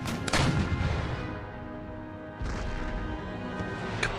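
Artillery cannons firing in Empire: Total War, with a heavy booming shot near the start and another around the middle, each followed by a rumbling decay over continuous battlefield noise.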